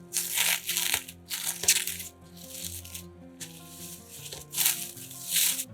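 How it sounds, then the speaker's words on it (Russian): Cling film is peeled off a chilled, set meat roll, giving crinkly plastic rustles in several close, uneven bursts with brief quieter gaps between them. "Рулет застыл, достаем его из пленки."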